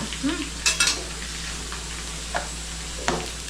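Garlic sizzles steadily in a hot pan as it fries until golden brown, with a few soft scrapes and clinks of stirring; no one speaks.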